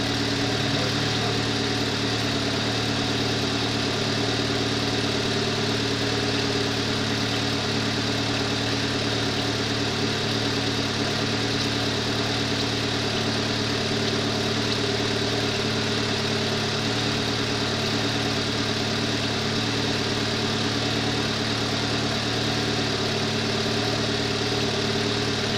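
A Renault Laguna 1.6 16V engine, freshly fitted with a new timing belt and coolant pump, idles with a steady, close, even hum and vibration for about twenty-five seconds, with no voices.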